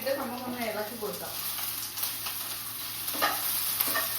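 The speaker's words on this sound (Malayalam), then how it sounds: "നമുക്ക് സവോള ഇട്ടിട്ട് നമുക്കൊന്ന് ഇളക്കി കൊടുക്കാം." Sliced onion frying in a pan and being stirred, a steady soft sizzle with a few scraping strokes. A voice is heard briefly at the start.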